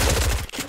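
Rapid automatic gunfire from Fortnite gameplay, a fast rhythmic burst of shots close and loud that cuts off abruptly, followed by a brief quieter tail.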